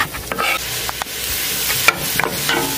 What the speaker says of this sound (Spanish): Vamos a echar un poco de aceite para el aderezo. También echamos la cebolla picada.